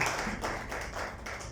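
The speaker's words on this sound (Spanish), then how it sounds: "Denle un aplauso a Cristo con todo el corazón" Steady applause from a church congregation, dense and continuous with rhythmic surges, filling the whole moment at moderate loudness.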